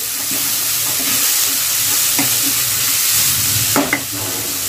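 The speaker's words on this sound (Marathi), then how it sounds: "आणि लगेचच आपल्याला टोमॅटो आहे ना तोही चांगला यामध्ये फ्राय करून घेऊया" Tomato frying in a pan with onion, a loud, dense, continuous sizzle with low rumbling stir strokes and a couple of spatula knocks toward the end.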